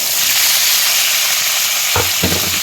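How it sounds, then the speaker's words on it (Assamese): Onion, ginger, garlic, tomato and green chillies frying in hot oil give a steady, close sizzle throughout, with two short knocks of stirring near the end. "এতিয়া এইখিনি ধুনীয়াকৈ ভাজি ল'ম তেলত"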